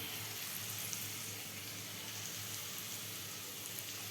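Chopped onion frying in a pan, a steady dense sizzle and crackle that holds evenly throughout at close range with no talking over it.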